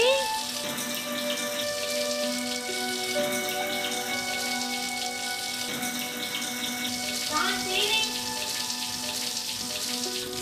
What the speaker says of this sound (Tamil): இங்கே மட்டும் தண்ணி நிக்காம வருது